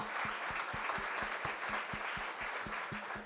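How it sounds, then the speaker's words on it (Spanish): An audience applauds at a commemoration event for family businesses, a continuous dense wash of clapping with some louder individual claps standing out near the front. "un aplauso"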